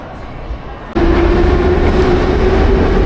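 A Tbilisi metro train starts up with a sudden loud roar and a steady mechanical whine that keeps going under the rumble of the moving carriage, after a quieter stretch at the start.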